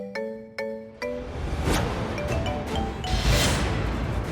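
A phone ringtone chimes three quick bright tones, then gives way to a rushing, noisy wash of sound.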